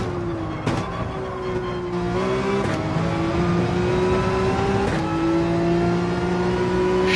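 A GT race car at Brands Hatch in Gran Turismo 7, its engine droning loud and steady, pitch rising through the gears with brief shift breaks.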